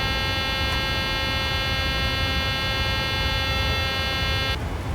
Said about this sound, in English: Yep, you don't have to beep at me that much